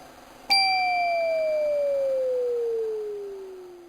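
An electronic drum hit from the Snare 3, an early drum synth: a single loud tone that starts sharply and glides steadily downward in pitch. It sustains for about three seconds before fading, heard alone with no talking.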